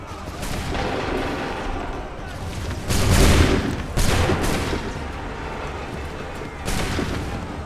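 Musket volleys crack out in Assassin's Creed III, several loud bursts of massed gunfire with short gaps between them and rumbling battlefield noise beneath, the loudest crash near the middle.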